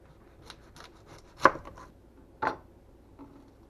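A knife slices through a large onion on a cutting board: a few light scrapes, then two distinct firmer cuts about a second apart, close and clear with no talking.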